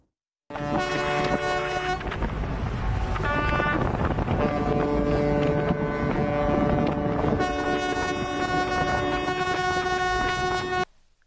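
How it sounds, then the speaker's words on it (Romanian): Several tugboat horns blast together in the Suez Canal, marking the full refloating of the container ship Ever Given; loud, overlapping sustained toots that hold steady for about ten seconds, with no talk. "Așa au marcat cele 13 remorchiere momentul deblocării complete a navei Ever Given"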